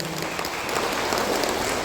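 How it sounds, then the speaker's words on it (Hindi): Audience at a hawkers' federation foundation day celebration in Pasighat giving loud, dense, continuous applause in welcome, heard steady throughout without speech. "जोरदार तालियों से स्वागत कीजिए."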